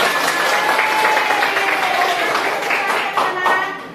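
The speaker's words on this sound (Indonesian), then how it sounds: "Oke, aplaus semua buat kalian." A classroom of students breaks into sustained, close applause, a dense wash of many hands clapping that continues steadily and fades slightly at the end, with some voices mixed in.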